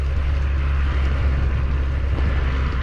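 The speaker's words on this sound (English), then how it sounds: "Maybe you can hear the tractor in the field next to us as the guy goes around baling his hay." Tractor baling hay in a neighbouring countryside field, a loud, steady, low engine drone that holds constant throughout with no talk.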